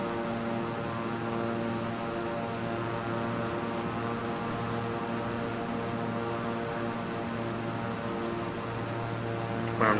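A propeller airplane engine in Microsoft Flight Simulator 2020 drones steadily for about ten seconds, a constant even hum with no speech.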